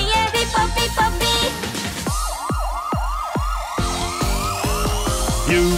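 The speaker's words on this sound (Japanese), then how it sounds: "救急車がピッポピッポ、お先に失礼、ピッポピッポ" A cartoon ambulance siren plays in a Japanese children's song about working vehicles: a series of loud, repeating rising and falling sweeps over bright, bouncy music.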